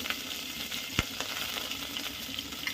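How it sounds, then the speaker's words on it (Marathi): Mustard seeds and curry leaves sizzle in hot oil, a close, continuous crackling hiss with scattered pops, one sharper snap near the first second, and no talking over it. "आपलं तेल तापलेलं आहे, त्याच्यामध्ये आता मोहरी घातलेली आहे, कढीपत्ता टाकलेला आहे"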